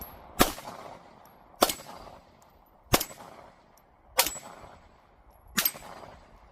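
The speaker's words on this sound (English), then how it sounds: "Shoot it out. We're gonna hit the target, the circular target, the 6-inch gong" Five pistol shots at an even pace ring off a 6-inch circular steel gong target 15 yards away, each a sharp crack followed by a bright metallic clang that decays briefly before the next.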